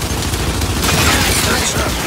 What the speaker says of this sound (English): now I have to use gunfire!